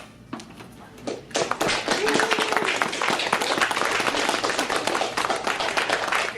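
An open-mic audience in Austin breaks into applause after a poetry reading: a quiet start with a few scattered claps, then dense, sustained clapping from about one and a half seconds on that stays loud to the end, with some voices mixed in.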